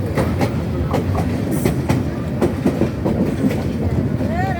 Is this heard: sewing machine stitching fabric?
no